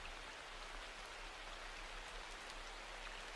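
Steady rain falling, a soft even hiss of drops that continues without a break, gentle and fairly quiet, with no voices.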